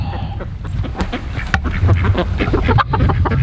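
A flock of ducks quacks busily and repeatedly close by, overlapping calls forming a noisy, continuous chatter.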